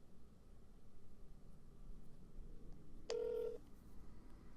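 A cell phone dials a short burst of tones, heard once as a brief clear beep sequence over faint background hum.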